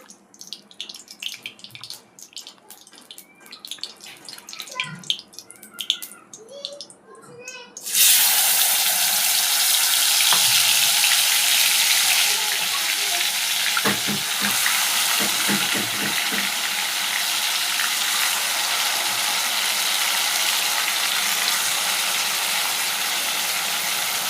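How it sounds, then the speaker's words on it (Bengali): Marinated chicken for biryani drops into hot oil and sets off a loud, steady sizzle and spatter that starts abruptly and holds for the rest of the clip, after quieter handling noises. "এই তেলটার মধ্যে গরম হয়েছে এবার আমি এতে মাংসটা দিয়ে দেবো"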